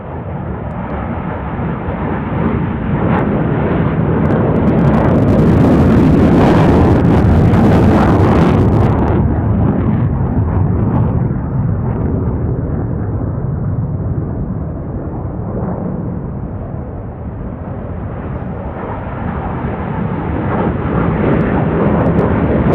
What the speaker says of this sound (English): More F-16s ready to roll.